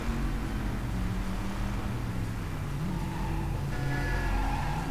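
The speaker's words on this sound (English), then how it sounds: "The sound even changes when you go around the car." Car engine in the 2004 driving video game Driv3r, set in Miami, a steady hissy engine drone with a faint rising whine near the end.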